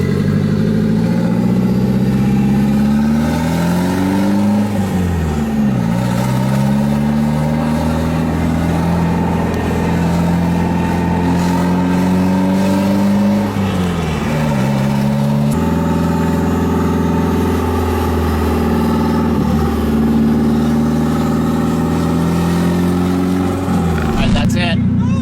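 A JDM car's engine revs and pulls hard while driving, loud and close, rising in pitch through several accelerations with brief drops between gear changes.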